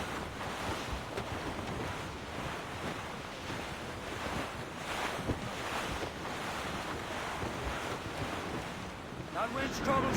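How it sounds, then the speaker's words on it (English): Wind gusting over open ocean with surf from a sailing ship at sea in the game Assassin's Creed Rogue, a steady broad rushing roar throughout, loud and continuous with no pauses. "That wind's trouble."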